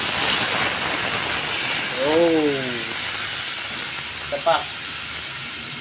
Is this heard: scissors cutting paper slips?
no